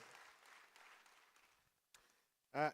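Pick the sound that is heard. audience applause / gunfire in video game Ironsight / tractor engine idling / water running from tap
audience applause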